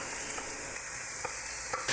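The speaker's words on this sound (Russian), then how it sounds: "На разогретую сковородку наливаю растительное масло и обжариваю сразу 1 лук" Onion sizzles and fries in vegetable oil in a preheated pan with a steady crackling hiss, close up, and a brief clatter at the end.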